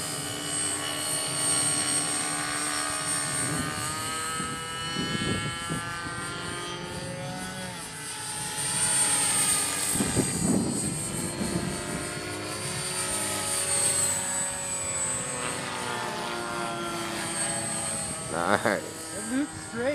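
A small Rave450 engine runs continuously, a buzzing, rising and falling drone that sounds close and fairly loud, with people talking over it throughout.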